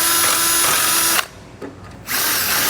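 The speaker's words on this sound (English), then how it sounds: "you're going to want to take a 3/8 inch drill bit, and we're going to enlarge" A power drill with a 3/8 inch bit enlarges bolt holes for a Roadmaster base plate on a 2016 Kia Soul, running loud and steady, cutting out briefly near the middle, then resuming.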